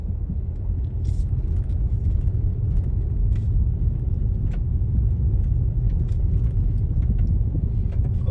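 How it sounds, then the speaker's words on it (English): A car creeping slowly along an unpaved dirt road in Lehigh Acres, giving a steady low engine rumble and road noise with faint scattered crunches and clicks from the surface. "I'm gonna go real slow. I don't want to get this car dirty on this dirt road."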